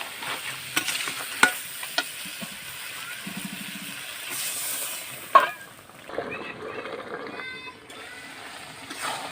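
A goat head masala simmers in a pot, soft sizzling and a few stirring clanks audible before it is covered with water to boil, brief quieter bubbling following.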